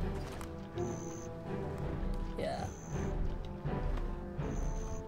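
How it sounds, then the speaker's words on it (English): Horse-riding music from the video game Black Desert plays softly, with faint sustained tones that recur several times over rhythmic hoof clip-clops, all at a low level. "Because this is the music when you get on the horse."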